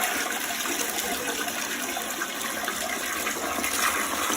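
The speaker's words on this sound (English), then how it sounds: "let's go ahead and flush" A toilet flushes after its bowl has been scrubbed of stubborn stains, a loud steady rush of swirling water close by that fills the whole moment with no talking.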